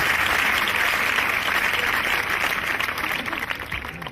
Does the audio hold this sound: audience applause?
yes